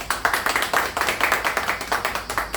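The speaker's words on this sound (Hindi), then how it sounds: "एक बार हमारे सभी साथियों के लिए एक बार जोरदार तालियां हो" An audience at a business meeting claps in rhythm, a fast, steady series of loud, close hand claps repeating evenly throughout.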